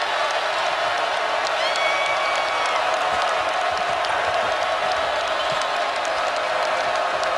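A basketball arena crowd at a Miami Hurricanes vs Virginia Cavaliers game sends up a steady, broad roar of cheering and noise that holds unchanged throughout, distant and diffuse.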